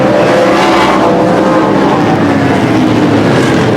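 NASCAR race cars roar past on a 1995 oval track, a loud, dense engine howl that swells and stays constant as the field streams by, with no break in the noise.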